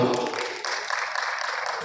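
Audience applause at a Hindi kavi sammelan poetry gathering, a steady wash of clapping from a crowd that holds evenly throughout and fades near the end.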